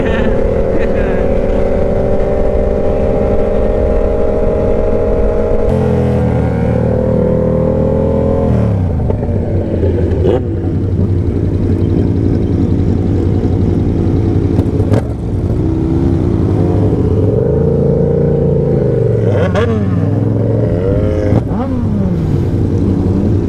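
Yamaha R7 sport motorcycle cruising on a highway at about 40 mph, a steady loud engine drone with wind roar and shifting pitch as the revs change, with some talking over it.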